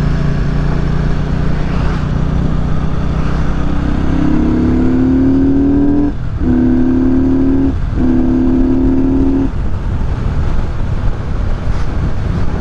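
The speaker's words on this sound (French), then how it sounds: "Ça fait un bordel à l'accélération" A Benda 500 Napoleon motorcycle engine revs up under heavy wind rush while riding, with a rising engine note broken by brief dips as gears change, loud and continuous throughout.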